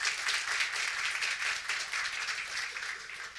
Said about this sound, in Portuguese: vamos acolher a Mona, uma salva de palmas para ela também.